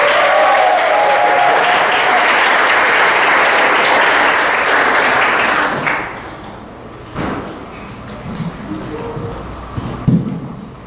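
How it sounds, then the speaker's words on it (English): An audience at a benefit dinner applauds loudly for about six seconds, then the clapping drops away to scattered thumps and handling noises in the hall. "Let's give a round of applause for Sachika."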